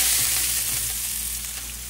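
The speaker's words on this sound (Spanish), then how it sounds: "Disculpen el ruido porque se está guisando la demás." Steak frying in a pan, a steady loud close sizzle with crackling spatter throughout and no voices.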